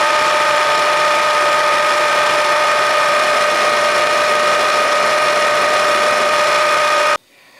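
A Bridgeport milling machine spins at 2720 RPM while cutting a chamfer, giving a loud, steady, tonal mechanical whine with a constant hum that runs for about seven seconds before cutting off abruptly.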